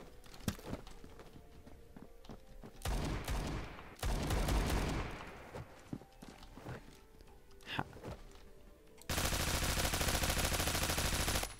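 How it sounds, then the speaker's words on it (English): Roblox Phantom Forces gameplay with rapid gunfire: scattered sharp shots, dense automatic bursts and a loud sustained stretch of firing near the end, with footsteps and game ambience between. "We're getting shot at."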